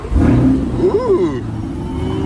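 A Chevrolet Corvette C8 engine revs with a rising and falling roar near the midpoint over a steady low rumble, close and fairly loud, with a voice faintly in the background.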